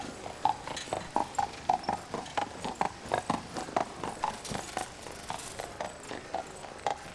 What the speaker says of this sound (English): During wartime, the clatter of horses' hooves can both sound like a knell and yet resound with hope.